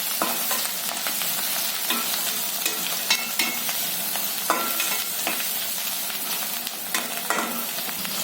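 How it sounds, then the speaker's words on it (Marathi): Turmeric stirred into a frying bajra bhakri mixture in a pan, with steady sizzling under soft, repeated scraping strokes of a spoon; no voices. "हळद घालते मी पाव चमचा हळद थोडं हलवून घेतो"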